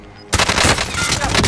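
Rapid automatic gunfire in Call of Duty: Modern Warfare, a loud continuous burst that cuts in suddenly after a near-silent moment and rattles on close and harsh.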